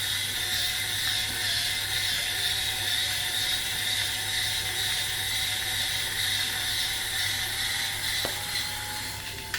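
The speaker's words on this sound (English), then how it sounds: "because I always like to hot start it, so I'll start it like that, and then I'll put the grounds and I'll observe the grind quality" A Starseeker Edge coffee grinder grinds beans with a continuous close mechanical whir and rattling burr chatter. The sound stays steady throughout, with a brief click near the end and no voices.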